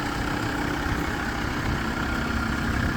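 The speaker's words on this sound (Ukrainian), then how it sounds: "Двигун заведений" A 2004 Volkswagen LT 35 van engine idling, a steady low rumble with an even, unchanging drone heard close by and alone for the full few seconds.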